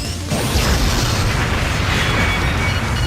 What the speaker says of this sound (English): Enemy missile closing in!